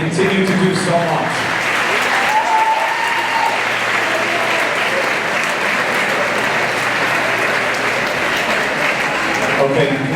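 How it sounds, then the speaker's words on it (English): Graduation audience giving a big, sustained round of applause for parents, grandparents and great-grandparents, dense clapping filling a large hall steadily throughout with crowd murmur underneath. "please join all of us on the dais in giving a big round of applause and thanks to their parents, grandparents, and great-grandparents"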